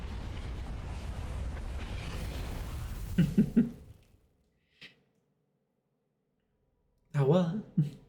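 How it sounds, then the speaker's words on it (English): A flashbang bursts in the space exploration game Outer Wilds. A roaring wash is followed by two sharp bangs, then near silence with one faint blip and a final loud double burst. "Incoming flashbang."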